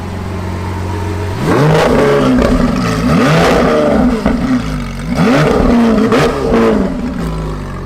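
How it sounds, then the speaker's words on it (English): A Lamborghini Sián FKP 37 hybrid supercar revs hard in sports mode, its engine note sweeping up and dropping back in two loud surges over a steady idle. "This sounds like no other Lamborghini in the world."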